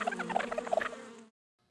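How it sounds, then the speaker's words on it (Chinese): A honeybee buzzes with a steady, droning hum for just over a second, fairly close and clear, then cuts off into silence. "蜜蜂是肚子饿了， 所以嗡嗡叫。"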